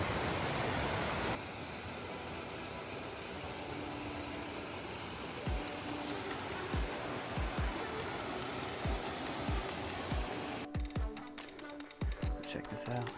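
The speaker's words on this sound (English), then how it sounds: "Another waterfall." Steady broadband rush of a waterfall along the Appalachian Trail in the Standing Indian area, continuous and fairly loud, with a few brief footstep-like thumps and knocks near the end.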